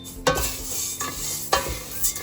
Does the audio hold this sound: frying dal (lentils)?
yes